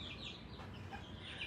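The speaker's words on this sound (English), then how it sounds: "These little chickens aren't so sure yet." Young chickens cluck softly at a distance, a few faint, scattered calls over quiet farmyard background.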